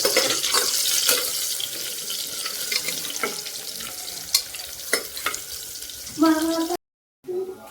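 Pulao cooking in a pan in a home kitchen: a soft sizzle under repeated clinks and scrapes of stirring, with a brief watery run near the end and a short cut to silence.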